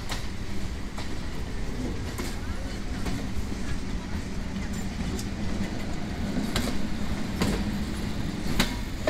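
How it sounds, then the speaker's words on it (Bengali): A Bongaon-Barasat local train runs along the rails near Sealdah, a loud continuous rumble with rhythmic clickety-clack wheel knocks and rattling carriages throughout. "এটা বনগাঁ বারাসাত লোকাল।"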